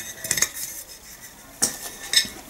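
A metal saucepan lid is handled, producing a few sharp clinks and clatters in irregular bursts, close and fairly loud, with no one speaking.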